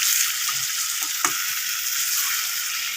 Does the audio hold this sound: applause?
no